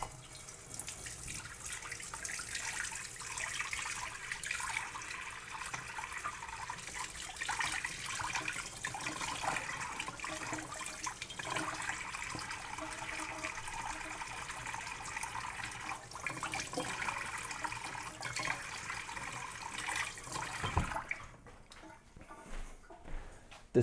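Leeks are rinsed under a running kitchen tap, a steady close hiss of flowing water with splashing and dripping that carries on for about twenty seconds before tapering off.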